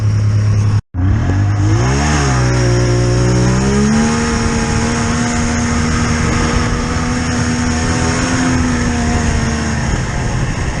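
A stock Polaris Indy XLT 600 triple snowmobile riding through snow, its two-stroke engine loud and close, revving up in rising sweeps before settling into a steady high drone.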